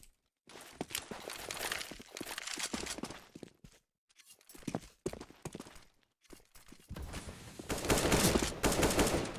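Gunfire in a Counter-Strike match on the Overpass map comes in short, sharp bursts separated by gaps, with footsteps between volleys and a sustained rapid burst at the end.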